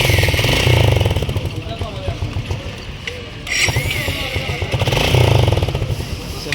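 A motorcycle engine running just after being started, throbbing and revving in uneven surges close by, with someone talking over it.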